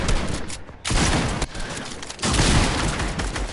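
Rapid bursts of video game gunfire in an arena shooter, dense and continuous with short gaps between volleys, loud and close throughout.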